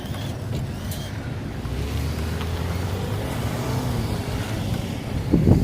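An HBX Hailstorm 1:18 off-road 4WD RC car racing at high speed, a steady buzzing motor whine with gritty rumble from the tires on the ground, continuous throughout and ending in a short scuffing burst.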